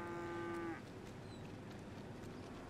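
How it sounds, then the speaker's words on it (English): A single long, low cow moo from a herd of cattle escaping a meat plant in a GTA 5 roleplay game, steady and fairly faint, ending abruptly and followed by soft background ambience. "Let's have a herd of cattle getting out of the meat plant, because cows escaping the abattoir is every cow's dream"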